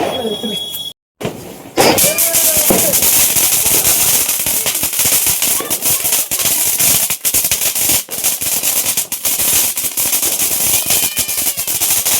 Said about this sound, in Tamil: இவங்கெல்லாம் பட்டாசு வெடிச்சிட்டு இருக்காங்க